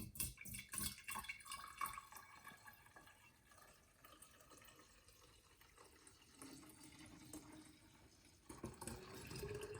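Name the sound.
liquid poured into a carafe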